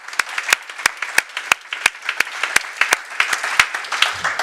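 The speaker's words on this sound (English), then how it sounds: "Can we give them a round of applause, please?" An audience applauds speakers at a closing session in London, with sharp, distinct hand claps rattling in an uneven rhythm over a few seconds, close and lively.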